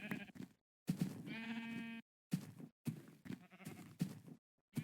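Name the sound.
sheep bleating in the video game Minecraft (Timelocke Enhanced)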